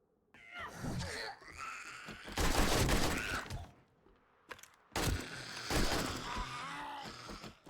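Bursts of gunfire in the zombie survival video game 7 Days To Die, loud and dense, arriving in two main volleys with short gaps and a brief pop between them.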